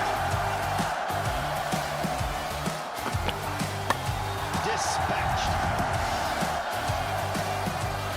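A crowd at a live T20 cricket match between Derbyshire Falcons and Northamptonshire Steelbacks roars in a steady, dense wash of cheering. A commentator speaks briefly over it.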